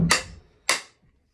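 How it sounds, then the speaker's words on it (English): A hammer strikes a metal wedge being driven into wood, giving two sharp, close knocks about half a second apart, each dying away quickly. No one talks. "Hear that thud? It's just a dull thud."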